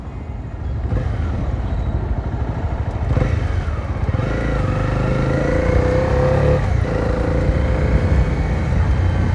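Motorcycle engine running steadily at close range while riding on a road, a continuous low rumble with a rising revving tone and some clatter partway through, no talking over it.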